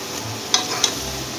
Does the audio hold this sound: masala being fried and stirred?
yes